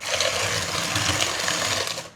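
An electric mixer whirs through butter creamed with brown and white sugar for Christmas cookies, giving a loud, steady motor hum with a gritty beating texture that eases off at the end.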